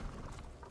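Hoofbeats of a horse in Ghost of Tsushima clip-clop in a quick, steady rhythm, fairly close and moderately loud, with faint game ambience and no talking.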